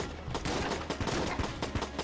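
Rapid bursts of gunfire from the video game Enter the Gungeon come in a fast irregular volley of sharp shots, fairly quiet, with no talk over them.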